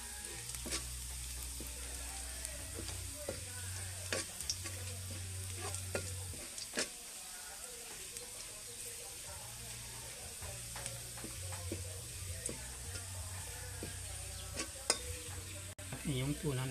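Garlic sizzles steadily in a hot pan while being stirred, with the continuous frying hiss broken by scraping strokes and light clinks, moderately close and with no talking.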